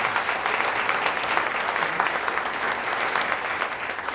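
Sustained, fairly loud applause from an audience at a university distinguished speaker event, honoring a board of regents president, many hands clapping evenly throughout the four seconds with no voices over it.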